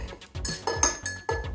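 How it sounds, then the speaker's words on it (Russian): A spoon stirs honey into water in a drinking glass, making a series of light, ringing clinks against the glass at an uneven rhythm, close and fairly quiet. "мы добавляем мед каждый день, ложку, и разводим его в воде"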